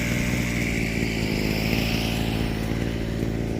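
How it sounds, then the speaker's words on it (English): A weed whacker (string trimmer) clearing overgrown land on a farm in St. Ann, Jamaica, its small two-stroke engine droning loudly and steadily throughout, with no pauses or voices. "this is the land being cleared with the weed whacker"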